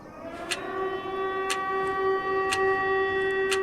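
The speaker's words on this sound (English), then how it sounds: "There, I was presented with a concerning text, a running timer, and a loud bomb siren." Loud bomb siren in the video game MISERY, a steady droning tone under a running timer whose sharp ticks fall once per second, close and continuous.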